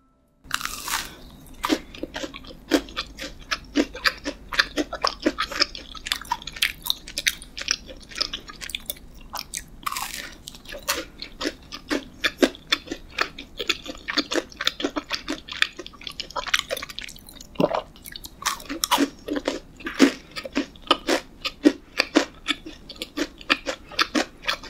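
Crisp, close crunching bites and moist chewing of a Puringkle financier pastry, eaten with iced americano, repeated small crackles over steady mouth sounds with no talking.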